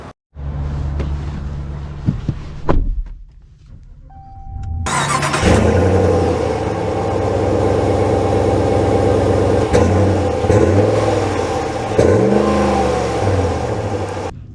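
A 2024 Ram 1500 Tradesman Night Edition pickup truck starts up after a few seconds of quieter sounds, then holds a loud, steady engine note while driving, with revs rising and falling.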